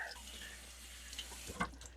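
A kitchen tap runs hot water onto a towel, a soft steady flow with a brief louder splash near the end, no talking.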